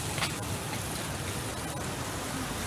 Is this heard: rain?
yes